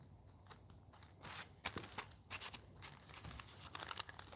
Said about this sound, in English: fold your clay